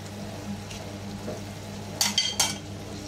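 Pork liver sizzling in a frying pan as sliced onions go in, a steady low fry with a couple of brief louder bursts of crackle and utensil scraping near the end.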